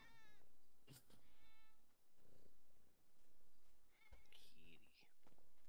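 A cat meows several times in a video game cat cafe, soft mews and purring spread across the scene with muffled game sounds and quiet talk in between.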